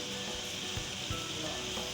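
Irani chicken karahi fries in a pan with garlic ginger paste and salt, giving a soft, steady sizzle broken by a few low thuds of stirring.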